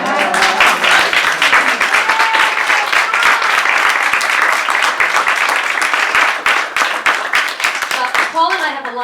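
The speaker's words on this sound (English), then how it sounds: "Now you can clap for the composing." Audience at a live cabaret show at Danny's Skylight Room in New York applauding the composer, sustained loud clapping from a full room that continues throughout and tapers slightly at the end.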